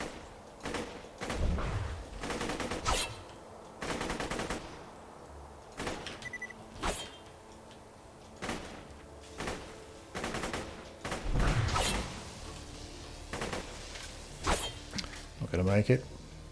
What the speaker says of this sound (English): I'm going to try the assault rifle here